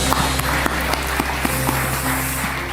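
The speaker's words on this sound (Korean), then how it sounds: "영광이 주님께 감사의 박수 올려드립니다." A church congregation applauds together during a festival worship service, a steady wash of clapping with a few sharper claps standing out over a low, constant hum.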